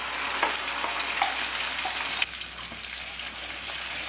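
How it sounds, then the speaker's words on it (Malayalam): Ground paste of tomato, onion, ginger, garlic and cashew sizzling steadily in hot oil in a pan for veg Kolhapuri curry, a close continuous fry that briefly softens partway through, with no talking. "തക്കാളി, സവാള, ഇഞ്ചി, വെളുത്തുള്ളി, കാഷ്നറ്റ് എല്ലാം കൂടെ അരച്ചത് ഇതിലേക്ക് ചേർക്കാം."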